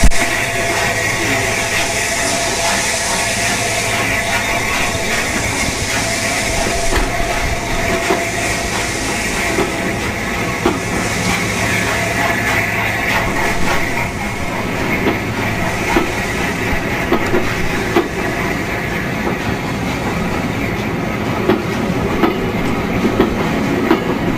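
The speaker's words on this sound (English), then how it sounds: "As the train gradually makes its way out of Bishops Lydeard station" A locomotive-hauled train on the West Somerset Railway departs Bishops Lydeard station, rolling steadily with continuous rumbling and rhythmic clatter from the wheels, loud and close, hissing in the background.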